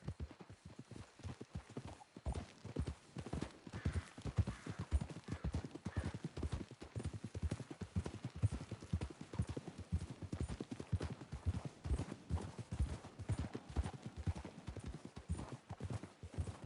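Horses trotting in the video game Red Dead Redemption 2 give a steady, close clip-clop of hooves that continues throughout, with a brief whinny at times.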